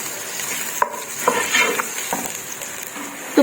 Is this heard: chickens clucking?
no